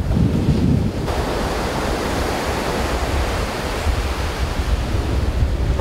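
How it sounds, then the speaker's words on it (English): Small ocean surf breaking at a surf spot, a constant broad wash of waves with a gusty roar at the start, steady and fairly loud with no talk. "I mean, the waves aren't that bad today."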